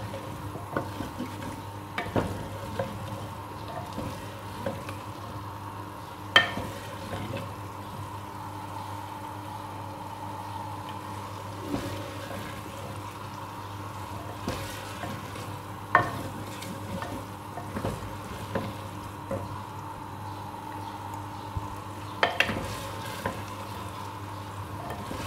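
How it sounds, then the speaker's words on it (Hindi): Minced keema fries with a splash of water in a clay handi, with a steady soft sizzle broken by repeated scraping stirs of a spoon against the pot. "इसमें मैं थोड़ा सा पानी डालूंगी ताकि नीचे ना लगे, पैंदे के साथ ना लगे कीमा, और अच्छे से भुन जाए।"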